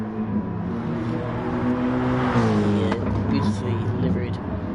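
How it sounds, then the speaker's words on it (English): Mercedes AMG GT3 and Aston Martin race cars pass on a circuit at Lake Maggiore, a droning engine note that swells and bends as a car goes by, then settles into steady background roar. "Beautifully delivered Revs Motorsport AMG GT3 by Steve the Pilot"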